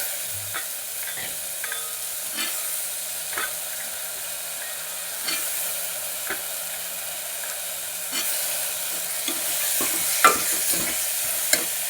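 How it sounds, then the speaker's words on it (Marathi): Masala roasts in a pan on a Maharashtrian stove, a faint steady sizzle broken by soft spoon-stirring scrapes and clinks, with a slightly louder clatter near the end as black peas go in. "मसाला भाजला चांगला तर आपण हे वाटाणे टाकून घेऊया।"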